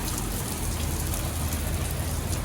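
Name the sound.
heavy rain falling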